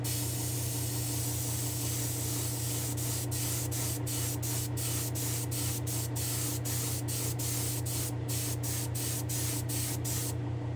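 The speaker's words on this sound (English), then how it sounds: "So I'm going to go ahead and spray the rest of our car." A spray can hisses steadily and close while paint goes onto a small Hot Wheels Buick Roadmaster die-cast car. The spray runs continuously throughout, with a string of quick light ticks in its second half.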